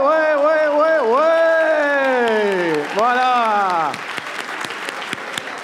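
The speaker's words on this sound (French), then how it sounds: "Une bonne main d'applaudissement" A speaking voice gives way to applause from a school science-contest audience, the clapping rising after a few seconds and continuing briefly at moderate volume.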